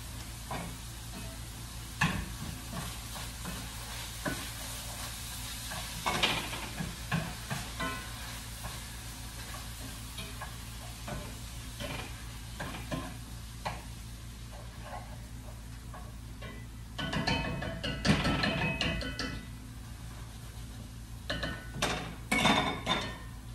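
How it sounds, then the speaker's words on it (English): Ground beef frying for picadillo, a faint steady sizzle broken by spoon scrapes and clinks against the pan, with two denser clusters of stirring clatter. "I'm gonna go stir the ground beef."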